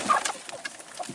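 A hen in a chicken coop gives a few soft, brief clucks, faint and close, with no talk.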